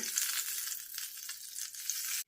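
Cumin and asafoetida tempering poured from a small pan into potato raita, giving a bright, close sizzle that holds steady for about two seconds, then cuts off abruptly.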